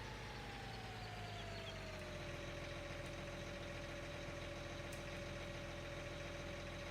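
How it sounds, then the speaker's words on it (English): A tractor engine idles in Farming Simulator 19, holding a steady, low droning hum whose tone eases slightly downward and then stays level throughout. "Oh, I hate this tractor."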